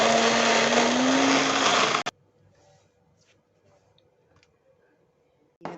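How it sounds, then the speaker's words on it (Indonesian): An electric blender grinds turmeric with water, a loud, steady whirring roar for about two seconds that cuts off abruptly, then near silence with faint ticks before a brief burst of noise at the end. "Kita kasih air dulu. Terus kita tutup. Kita blender deh."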